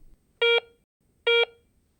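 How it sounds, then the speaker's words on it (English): Two identical medium-pitched electronic beeps from a Garrett Ace 350 metal detector signalling a nickel coin, each about a fifth of a second long, spaced evenly apart over quiet background hiss. "Medium conductivity targets, such as this nickel, sound like this."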